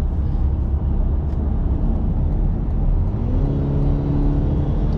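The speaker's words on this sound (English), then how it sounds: "Let's go ahead and give it some gas and merge over." A 2024 Cadillac CT5 Luxury sedan accelerating to merge onto a highway, heard from inside as a steady low engine and road drone with a slight rising tone, continuous and fairly loud.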